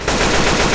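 Loud, continuous automatic gunfire from Left 4 Dead 2, a dense, rapid rattle of shots filling the whole brief moment at close range.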